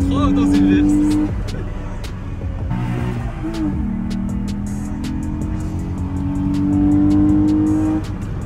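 A Volkswagen Golf 3 with a VR6 engine revs and drones loudly from inside the car, its pitch rising and falling across several pulls while voices talk over it.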